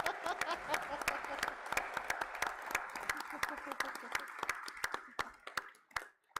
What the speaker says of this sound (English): please stand so that we can give you a round of applause